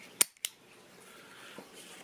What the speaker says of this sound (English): And throw an empty mag in there.